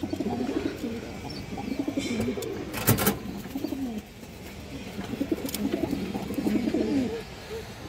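A male pigeon coos in soft repeated throaty phrases, close by, with a brief sharp rustle or flap partway through.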